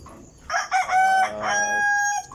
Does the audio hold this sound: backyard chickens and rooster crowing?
yes